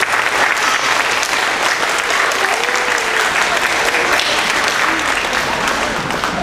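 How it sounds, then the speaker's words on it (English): An audience at an elementary school spring strings concert breaks into sustained applause for the families, a thick, continuous patter of many hands with faint voices mixed in. "give a round of applause for the families"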